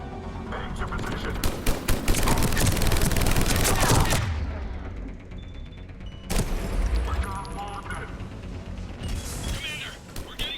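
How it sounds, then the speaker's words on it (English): Heavy mortar and gunfire barrage in Mass Effect, a loud, dense battle din of overlapping booms and shots for about four seconds, dropping off, then a second sharp burst of blasts and crackling fire as combat resumes. "Commander, we're getting a lot of mortar fire."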